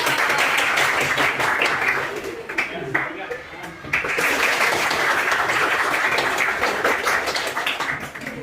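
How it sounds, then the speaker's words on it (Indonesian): A classroom of students breaks into sustained applause that dips briefly mid-way and then resumes, with voices mixed in under the clapping. "Tepuk tangan dong."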